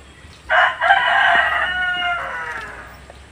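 A rooster crows loudly nearby in one long, drawn-out call, with a brief break near the start, over quiet background noise.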